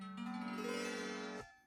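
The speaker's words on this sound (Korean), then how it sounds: "우선 외관은 이렇게 생겼고 소리를 들어보면" A lira (lyre), a second-hand instrument bought through a used-goods marketplace, sounds at home as a sustained bowed-like drone chord for about a second and a half, close and steady, then stops abruptly and decays.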